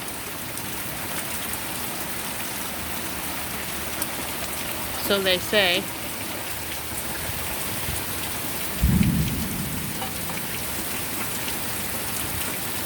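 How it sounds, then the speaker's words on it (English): Heavy rain drums steadily outdoors in a continuous roar, with a low rumble of nearby thunder rolling through midway; a voice speaks briefly over the downpour. "Look how much rain we got over here."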